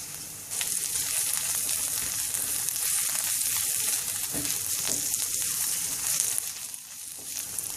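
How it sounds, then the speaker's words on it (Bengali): Whole cumin and black cumin seeds sizzle in hot oil in a pan while being stirred, a dense close hiss with soft scraping strokes, steady for the whole stretch and free of talk. "রান্নার জিরে আস্ত আর কালো জিরে নেড়ে চেড়ে ভেজে নিলাম"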